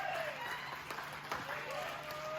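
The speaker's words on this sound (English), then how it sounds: "Give yourself a nice round of applause for coming out to this beautiful wedding" Quiet applause from wedding guests at an evening reception at Owls Nest Resort in Thornton, New Hampshire, soft scattered clapping that sounds somewhat distant, with a faint tone running beneath it.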